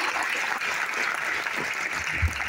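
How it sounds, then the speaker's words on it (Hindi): An audience in an air-conditioned hall claps together, a dense, sustained burst of applause at moderate distance, with no voices over it. "अपने आप के लिए एक बार जोरदार ताली बजाओ।"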